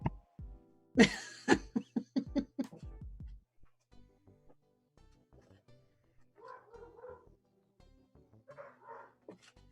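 A dog barks in a rapid burst of about eight loud, close barks at a farm, then falls quiet while faint voices murmur in the background.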